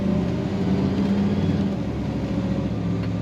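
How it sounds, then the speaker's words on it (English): A 1955 Chevrolet 210 two-door post runs smoothly while driving, its engine giving a steady, low, even rumble that is moderately loud and continuous for a few seconds. "very smooth sounding engine"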